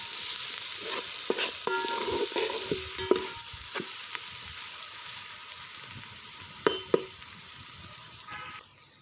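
Ginger garlic paste sautés in a pan for a jackfruit biryani, a steady hiss of frying broken by repeated clinks and scrapes of a spoon stirring against the metal, close and fairly loud with no talk.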